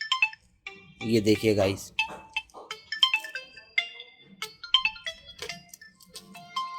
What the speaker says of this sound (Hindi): ये रिंगर तो हमारा बजने लग गया है।